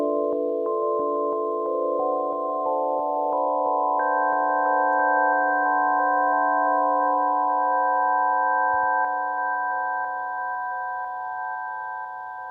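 Generative ambient synth in Ableton Live run through a hybrid reverb: sustained, layered tones that stack up and hold steady, with a higher note entering partway, forming a smooth, continuous drone at a constant loud level with no voices.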